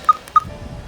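Two short keypad tones as a telephone number is dialed, quick and fairly clear, over a faint low background hum.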